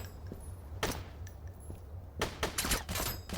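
Bursts of Glock pistol fire in a video game crack out in quick groups, a single shot followed later by a rapid flurry of shots, heard faint and slightly distant over low background hum.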